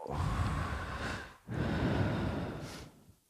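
A deep breath taken during a guided breathing exercise: one long, close, breathy inhale, a brief pause, then an equally long audible exhale that fades out, with no talking.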